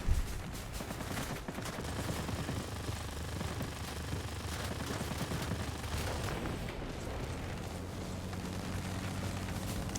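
Rapid gunfire strikes and bursts around a P-40N fighter plane in World of Warplanes combat, a dense continuous barrage of crackling shots layered over droning engine noise throughout.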